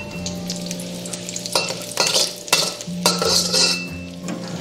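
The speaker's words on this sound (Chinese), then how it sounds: "锅里留一点底油，我们下入15克的黄油，给它炒融化" About 15 grams of butter melts in a pan over a little leftover oil, giving a close, steady sizzle broken by bursts of spatula scraping and stirring, with a low tonal hum running underneath.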